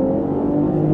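A 2019 BMW X7 xDrive40i three-row luxury SUV accelerating up a hill, its engine a steady, loud, even drone under load throughout, with no talking.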